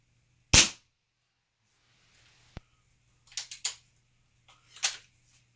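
A Weihrauch HW97KT air rifle fires a single sharp, close crack, followed by faint clicks and a few softer mechanical knocks from handling the gun.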